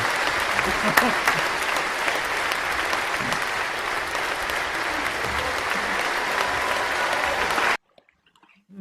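Sustained, enthusiastic audience applause for performers on a Camden live stream show, a dense roar of clapping with a brief voice mixed in, cutting off abruptly into near silence at the end.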